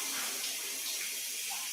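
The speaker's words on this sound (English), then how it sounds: "He's in the shower." A shower runs with a steady, even hiss of spraying water that stays constant and fairly loud throughout, with no talking.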